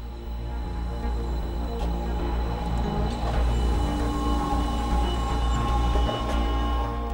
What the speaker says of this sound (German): Der Doppelstocktriebzug KISS ist zurzeit das modernste, was die Privaten zu bieten haben